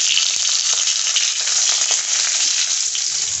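Garlic frying in hot tempering oil for spicy besan pitla, a bright continuous sizzle with faint crackles and occasional stirring taps, close and steady throughout.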